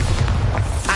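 The Bombarda blasting spell in Hogwarts Legacy erupts as a loud, close explosive boom with a rumbling, crackling body lasting about a second.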